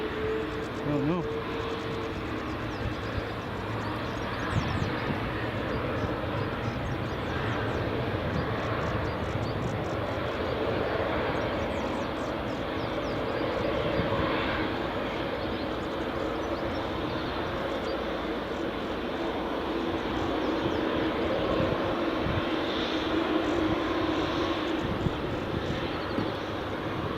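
Jet2 Airbus A321 jet engines at Edinburgh Airport on runway 24, early morning: a steady, loud broadband roar that holds for the whole stretch, with no talk over it.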